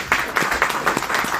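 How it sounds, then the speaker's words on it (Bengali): Audience clapping at a DXN network marketing business event, loud and close, a short burst of many hands with distinct individual claps in an uneven rhythm. "স্যারের জন্য একটা করতালি আশা করছি।"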